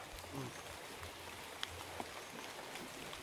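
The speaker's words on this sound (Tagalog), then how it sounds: "Malakas talaga yung ulan mga idol" Steady, dense hiss of rain falling throughout, with a couple of brief sharp ticks and a low murmur underneath.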